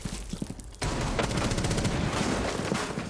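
Rapid R4C rifle fire in a video game, a dense burst of automatic shots that crackles continuously for about two and a half seconds after a brief quieter lead-in, loud and close.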